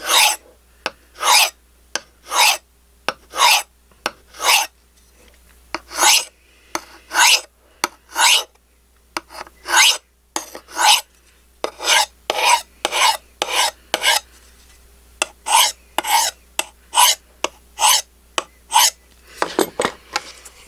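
Steady, even rasping strokes of a D2 steel knife blade (a Kubey KB274) drawn across a sharpening stone, about thirty close, crisp strokes in a regular rhythm, with no voice over them.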